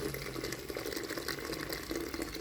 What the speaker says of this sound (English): I've pre-boiled water and I'm gonna add here